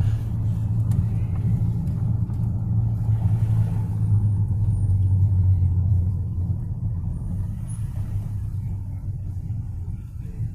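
A car driving through downtown Memphis, heard from inside as a steady, loud low engine and road rumble that holds even for the whole stretch, easing slightly toward the end, with no talk over it.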